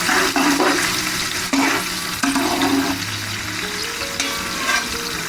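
Steady, loud sizzling of onions frying to golden brown in a pan for chicken pulao, with occasional scraping and stirring noises and a faint tonal hum near the end.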